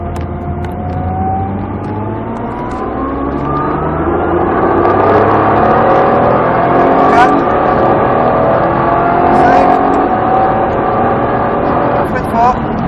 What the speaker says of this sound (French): On freine fort, on soulage, on rétrograde, en 3. On accélère.